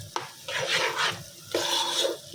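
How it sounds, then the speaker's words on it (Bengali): Rice being fried with roasted moong dal in a pot for khichuri: two bursts of close, scraping stirring with a soft sizzle, separated by short pauses, no talking. "এখন চাউলগুলো ভালোভাবে ভাজা মুগ ডাল দিয়ে বোনা খিচুড়ি রান্না হচ্ছে"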